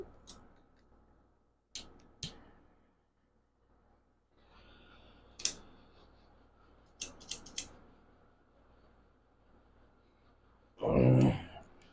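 A La Galera broadleaf cigar is snipped by a cutter in a few sharp, separate clicks spaced over several seconds in a quiet room, ending in a louder, longer rustle near the end.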